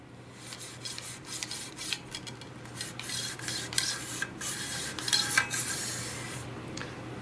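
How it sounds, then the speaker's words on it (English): A brush scrubs inside the barrel of a 555 Sporting shotgun in quick back-and-forth rasping strokes, fairly close and moderately loud, with no talk. "Make sure that I scrub it really, really well."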